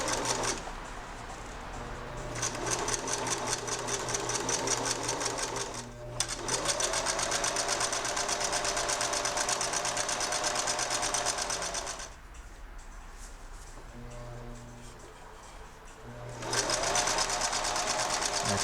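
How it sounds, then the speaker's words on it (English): Sewing machine stitching around the perimeter of a pillowcase, a rapid steady mechanical whir running in long bursts with brief pauses, close and fairly quiet. "Just give it a good sew around the perimeter again."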